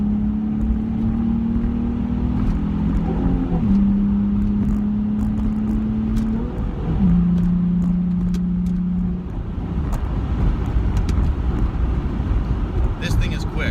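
A Nissan 350Z with a 3.5-liter V6 pulls hard on a sweeping road, its engine note climbing steadily through gear changes under wind noise heard from inside the car.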